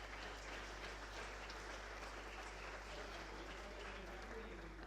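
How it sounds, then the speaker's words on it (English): Audience at an energy-transition panel session applauding the panelists, a steady wash of clapping lasting throughout, moderately distant and fairly faint. "a round of applause for all the panelists"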